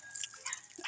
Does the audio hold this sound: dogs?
yes